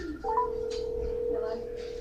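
A telephone is dialed during a livestreamed call-in for a race store benefit, with a steady tone running through and short keypress bursts, heard close over room noise.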